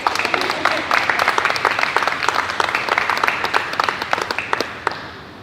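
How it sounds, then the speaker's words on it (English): An audience at a high school scholarship ceremony claps steadily in dense, loud applause that thins into scattered individual claps before stopping. "that deserves a round of applause"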